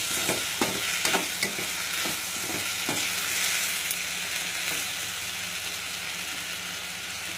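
Mixed ingredients for a mushroom kulambu sauté over a medium flame, giving a steady close sizzle with repeated sharp scrapes and taps of stirring through the first few seconds before settling into an even hiss.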